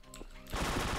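Rapid automatic gunfire from a weapon in the online shooter WolfTeam, a loud continuous burst of closely spaced shots after a brief lead-in of game sound.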